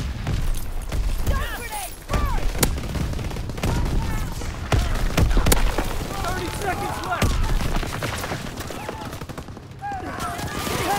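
Rapid WWII battle gunfire from Call of Duty: WWII, with bursts of rifle and machine-gun shots, booms and shouted voices over a dense, noisy battlefield.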